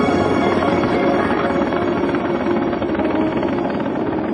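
Steady, loud rotor and turbine drone of a Soviet Mi-10 heavy-lift helicopter, continuous and unchanging throughout with no voices.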